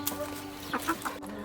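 Chickens in a henhouse give a few soft, scattered clucks, fairly close but quiet, over a steady low background hum, with no voices.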